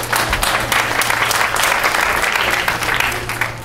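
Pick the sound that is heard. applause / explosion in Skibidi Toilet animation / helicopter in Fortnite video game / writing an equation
applause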